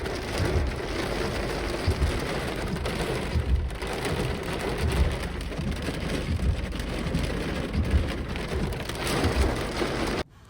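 Heavy rain from a severe thunderstorm with 70 mph gusts pours steadily onto surfaces, a dense, loud hiss with a low rumble underneath that holds throughout and cuts off abruptly at the end.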